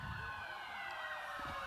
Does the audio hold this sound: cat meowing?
no